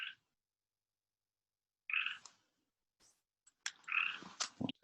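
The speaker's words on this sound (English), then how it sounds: "We'll take a moment to listen to the frog who's contributing." Frog croaking alone in a quiet setting, a few short separate croaks spaced apart, close and clear with silence between them.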